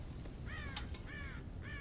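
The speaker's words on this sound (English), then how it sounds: "God damn crows!" Crows caw in the video game Red Dead Redemption, three or four harsh, rasping calls in quick succession, faint and somewhat distant over a low ambient background.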